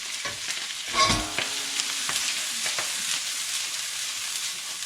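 Vegetables stir-frying in a pan with garlic and chili, making a loud, steady hissing sizzle, with a heavier burst as the food goes in and then soft stirring scrapes, and no talking.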